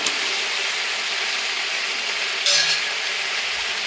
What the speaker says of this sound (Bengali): টমেটোটা যতক্ষণ গলে যাচ্ছে না ততক্ষণ আমি মশলাটা ভাজতে থাকবো